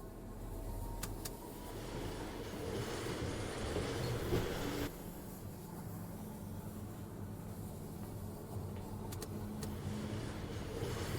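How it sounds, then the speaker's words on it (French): A railway wagon rolls out of a factory in the puzzle game Firmament, producing a faint, continuous low rumble with soft clanks, heard alone without talk. "Je vais donc chercher le wagon qui est dans l'usine."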